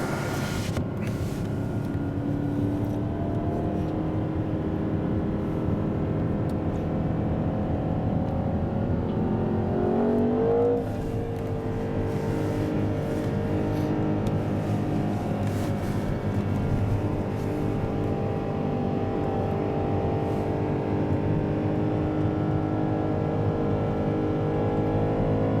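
A BMW M5 F10 and a Mercedes SL65 Black Series race, their engines droning loudly and steadily with a rising whine around the middle, then continuing at a sustained high roar with no talk.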